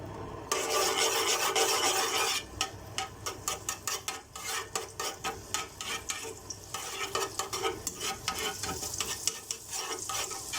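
Minced garlic, three cloves, fries in a pan with onion for a pasta tagine, heard as a hot crackling sizzle broken by repeated rasping stirs of a utensil against the pan, close and loud.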